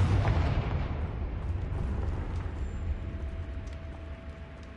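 Confringo spell blast in the Hogwarts Legacy video game: a loud, booming explosion at the start that rolls off into a long rumbling tail, with no talk over it.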